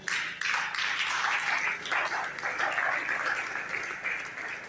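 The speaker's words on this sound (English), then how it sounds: "Please join me to clap for him again." Steady, sustained applause from an audience at a youth awareness and enlightenment event in Benin, a dense crowd of clapping hands filling the whole stretch with little variation.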